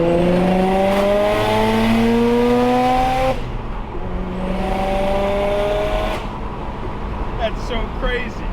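A street-ported Mazda RX7 rotary engine revs hard and pulls through the gears, with rising pitch sweeps, a brief shift break, then another loud climb heard from inside the car.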